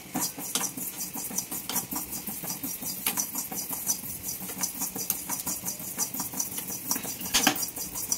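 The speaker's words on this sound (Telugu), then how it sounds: "ఇక్కడ పక్కన ఒక 2 స్పూన్ల నువ్వులు వేయించుకుంటున్నానండి" About two spoons of sesame seeds roast in a pan for tamarind pulihora, giving a dense, steady crackling patter with light scraping stirs and occasional clinks, close and even, with no talking.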